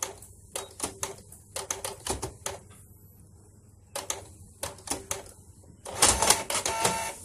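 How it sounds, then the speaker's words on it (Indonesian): A Canon IP2770 inkjet printer runs a print job, giving irregular bursts of sharp mechanical clicks and clatters with short pauses between them, then a denser rattling stretch at the end. "Oke, kita perintah print yang tadinya bling ya,"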